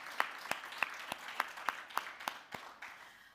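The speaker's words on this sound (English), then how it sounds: "let us give another round of applause to our professor" Sparse applause from a small audience at an inaugural professorial address honouring a professor, a few distinct claps standing out over a soft patter that thins and fades after about three seconds.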